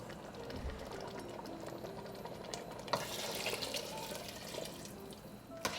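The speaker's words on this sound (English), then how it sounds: "Let's go on ahead and add that stock." Stock pours into a pot of classic chili, a steady soft liquid rush and gentle bubbling running throughout at close range, quietly, with a brief louder splash partway through.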